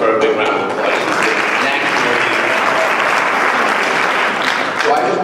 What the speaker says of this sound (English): and I just want to give her a big round of applause.